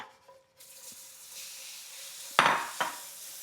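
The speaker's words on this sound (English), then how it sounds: "Ah, sizzle." A roux sizzles faintly in a pan while being stirred, with a low steady hiss and two sharp scraping strokes of the spoon against the pan near the end.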